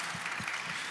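An audience at a book event for the novel "Chain Gang All Stars" gives a brief round of applause, a steady wash of clapping lasting about a second.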